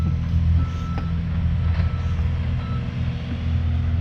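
A skid steer working on an asphalt millings driveway emits a steady rumbling engine drone, while faint, regularly spaced reversing beeps sound over it.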